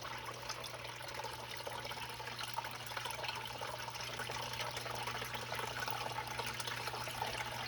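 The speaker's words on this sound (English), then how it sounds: "let the water flow around it and remove the black sands" Water runs steadily over a Miller table as black sands are washed away during a Lake Superior beach gold cleanup, a constant close trickling wash with a low steady hum beneath.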